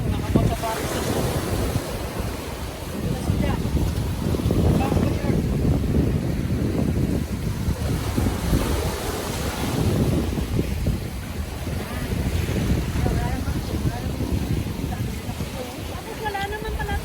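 Ocean waves at Tung Lung Chau island in Hong Kong, a loud continuous surf roar with swelling breakers and heavy wind buffeting, and people talking faintly underneath.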